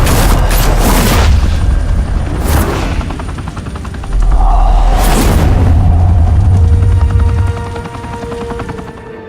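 Gunfire breaks out in a Telltale Batman video game, with loud booming bursts around one and five seconds over a steady low rumble, like a helicopter, and a sustained tone later on; no talking.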